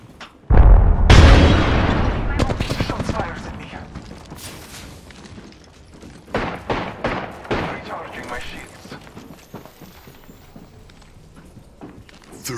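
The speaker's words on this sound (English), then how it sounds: "Throwing frag." A frag grenade explodes in the battle royale shooter Apex Legends with a loud, sudden boom near the start, then gunfire bursts, footsteps and game announcer voices follow over a busy, shifting background.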